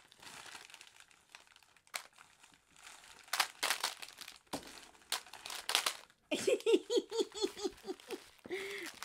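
Paper envelope of mail being torn open and handled, with crinkling and tearing bursts that grow louder and denser toward the end, close up; a voice and brief laughter-like sounds mix in.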